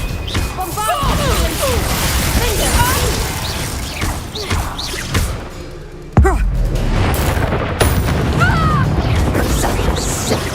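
Bombarda spell blast in the Hogwarts Legacy video game, a sudden loud boom around the six-second mark amid ongoing combat clashes, whooshes and thuds.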